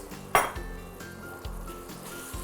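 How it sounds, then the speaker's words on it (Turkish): Tomato sauce hits a hot pan with a sharp sizzle and a metallic clink, then settles into steady frying hiss while baked minced-meat pasta sauce is cooked, with faint utensil taps; no talking. "Şimdi üzerine domates sosundan da döküyorum."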